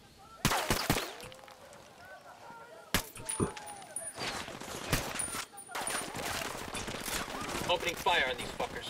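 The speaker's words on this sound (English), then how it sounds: "Opening fire on these fuckers." Rapid single-shot rifle fire in Ghost Recon Wildlands, sharp close cracks in quick irregular succession with ringing tails and clinking casings, continuing steadily through the firefight beneath occasional game chatter.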